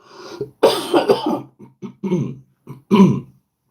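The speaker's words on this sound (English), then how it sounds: "I am coughing a lot today." Several harsh coughs and throat-clearing bursts in an irregular series, close and loud, separated by short silences.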